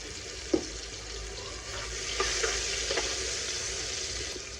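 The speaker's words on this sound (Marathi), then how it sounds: "मी आधी फ्राय करून घेते टमाटे" Tomatoes fry in a pan for a wedding-style Indian shak bhaji, giving a soft steady sizzle with a few light clinks of stirring, close by and without talk.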